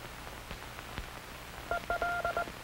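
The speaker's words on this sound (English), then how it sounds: "Listen to the sounds of the key. These sounds are transmitted in International Morse code." Soft mechanical clicks of a telegraph key, then a run of short and long Morse code beeps near the end.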